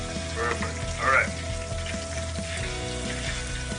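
Chicken sizzles and crackles in hot grease in a pan as a steady, loud frying hiss, with a couple of brief bursts of stirring or spatter.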